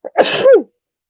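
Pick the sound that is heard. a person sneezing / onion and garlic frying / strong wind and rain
a person sneezing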